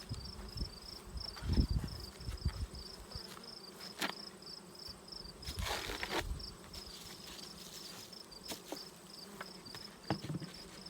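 Honey bees buzzing around an open hive during a hive inspection, a faint, steady hum with occasional closer passes and soft knocks from handling frames.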